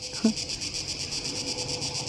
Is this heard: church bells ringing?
no